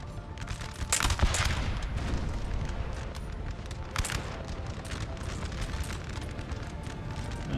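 Musket volleys in Napoleon: Total War crackle across a steady battlefield din, with sharper bursts near one and four seconds over a continuous rolling roar of distant fire.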